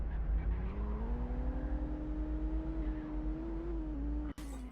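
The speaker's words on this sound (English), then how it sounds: "And you hear there's quite a lot of wheel squealing." Bus in City Car Driving accelerating hard with its wheels squealing: a sustained, steadily rising engine and tire whine over a deep rumble, ending with a brief sharp click.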